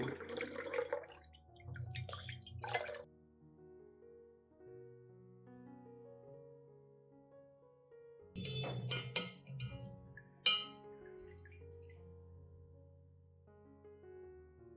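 Liquid drips and trickles while oat residue is strained together with a banana peel and eggshell fertilizer solution, falling in two short bursts near the start and a louder spatter midway, separated by quiet stretches.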